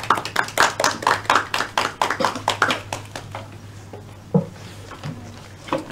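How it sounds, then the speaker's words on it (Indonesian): A small classroom group claps for a presenting group, a brief run of quick close hand claps that fades after a few seconds, leaving a couple of stray claps and faint room sounds. "Kelompoknya ayo bisa tepuk tangan."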